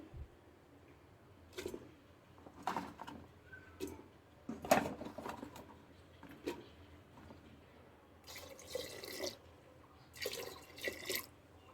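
Chana dal lentils being washed with water, a quiet run of close splashes, drips and swishes coming in irregular bursts, with some louder rinsing surges toward the end.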